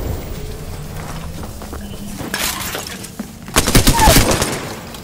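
Gunfire in a multiplayer video game: sharp cracks scattered through a busy background, then a loud, rapid burst of shots near the end.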